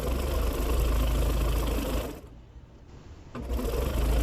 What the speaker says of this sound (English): I stitched that piece of batting to the butterfly fabric